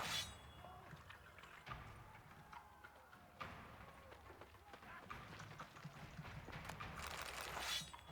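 Horse hooves clip-clop in The Witcher 3 game, a steady running rhythm under speech and other game sounds, growing louder toward the end.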